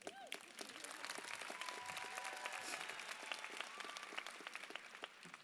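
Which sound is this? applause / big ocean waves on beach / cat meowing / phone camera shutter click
applause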